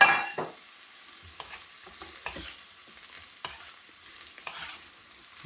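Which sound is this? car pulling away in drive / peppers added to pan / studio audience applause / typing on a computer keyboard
peppers added to pan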